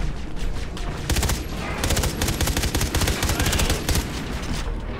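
Rapid weapon fire in Far Cry 3 Blood Dragon crackles in dense automatic bursts from start to finish, loud and close, with a brief pause near the start.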